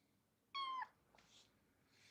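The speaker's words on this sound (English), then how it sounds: "I hear the kitten" A kitten gives one short, clear meow indoors, followed by faint rustling and soft background noise.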